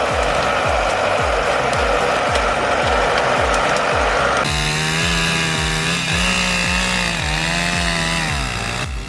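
A big chainsaw cuts into a large tree, loud and close, with a rhythmic chugging as the chain bites, then a steadier high whine with rising and falling pitch as the cut goes on.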